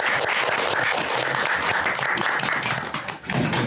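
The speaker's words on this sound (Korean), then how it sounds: "박수로 환영해 주시기 바랍니다." An audience claps to welcome the first speaking team at a design lecture event, a loud, dense round of applause with distinct individual claps, dipping briefly near the end before continuing.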